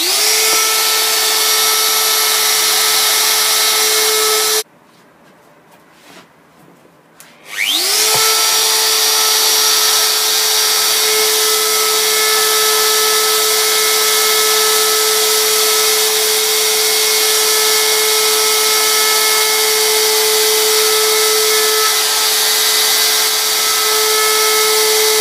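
A router cutting a wooden Christmas sign, a loud steady high-pitched whine that cuts out briefly, then spins back up and runs continuously, close and alone.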